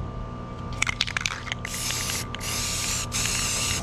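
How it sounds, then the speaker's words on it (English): Spray paint hissing onto a larger bowl, a Statue of Liberty costume piece, in a few long steady bursts with brief pauses, preceded by a couple of rattling clicks, fairly close and with no talking. "Spray paint all the way around"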